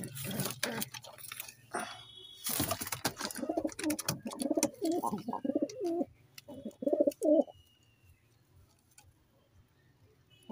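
A pair of Madras giribaz pigeons, one red and one white, coos softly in a series of low, repeated throaty calls close by, preceded by scattered clicks and a burst of handling noise.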